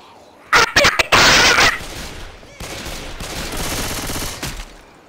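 Gunfire in Left 4 Dead: a few loud, close bursts of shooting open the clip, then rattling fire and combat noise continue at a lower level.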